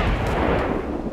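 Artillery shells bursting in the air in the combat game ArmA 2 with the ACE mod, heard as a steady, dense rumble of distant detonations running throughout with no talk.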